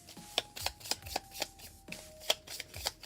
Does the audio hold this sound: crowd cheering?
no